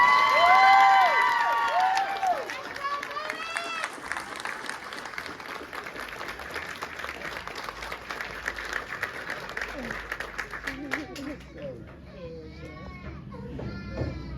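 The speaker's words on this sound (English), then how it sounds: "please give the promoted soldiers a round of applause" Sustained applause from a large crowd at an Army OSUT graduation ceremony, loud at first then steady clapping with some cheering and a child crying in the background.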